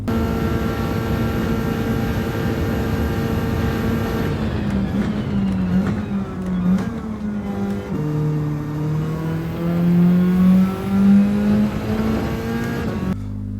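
A race car in Gran Turismo 7 accelerates hard, a loud close engine whine climbing through gears with rising and falling pitch sweeps at each shift, continuous and without talk.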